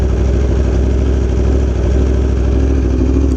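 Aprilia Tuono V4 1100 motorcycle engine running steadily at idle, a loud, close, even throbbing rumble with no talk.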